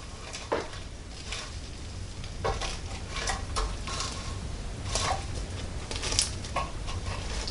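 Honey-coated chicken wings fry in a NuWave air oven, giving a steady low sizzle and crackle with occasional sharper pops and faint clinks, close and fairly quiet with no talk.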